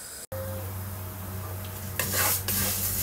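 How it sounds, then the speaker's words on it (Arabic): Vermicelli being stirred in a hot pan while it toasts golden, a steady close sizzle with scraping spoon strokes that grow louder and brighter near the end. "بنقلب في الشعريه لحد ما تاخد لون ذهبي وجميل"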